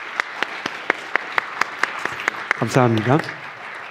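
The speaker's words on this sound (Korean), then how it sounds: "그분들 너무 수고한다고 한번 격려의 박수 보내주었으면 좋겠습니다." A church congregation at a Sunday university worship service claps in an even, evenly spaced rhythm of crisp claps, followed by a voice speaking briefly over the room.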